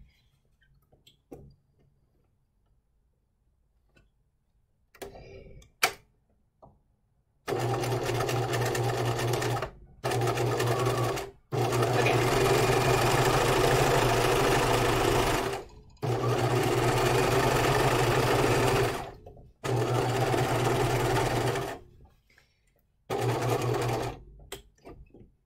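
A sewing machine stitches into the corner of a hanten mockup where the seam turns toward the sleeve hem, running in a series of steady bursts of close whirring broken by short stops, after quiet handling at the start.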